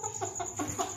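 Chickens cluck close by in short repeated bursts, several birds overlapping in a steady chatter.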